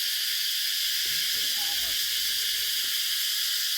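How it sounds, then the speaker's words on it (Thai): Cicadas in a forest village without electricity fill the air with a dense, steady, high-pitched buzz that runs unbroken throughout, with faint low rustles and a murmur near the middle. "โอ้จักจันลายเลย นี่ได้เสียงมาเนาะ"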